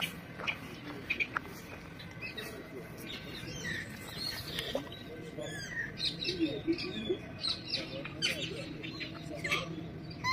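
Many small birds chirp and tweet in a busy, overlapping chorus, fairly faint against steady outdoor background noise in Amsterdam, Netherlands.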